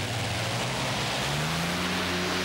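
The Green Fighter, a pulling tractor of over 7500 hp, roars at a tractor pulling European Championship in Alahärmä, Finland, as a loud, dense engine blare with a rising tone.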